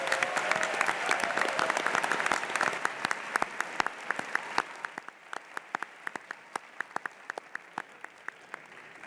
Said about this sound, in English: Let's give a great round of applause to these two teams.